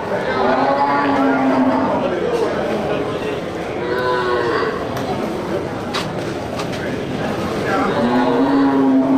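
Several cattle low and moo in long drawn-out calls at a livestock market with cattle and buffalo, amid a busy crowd hum, with overlapping voices chattering in the background.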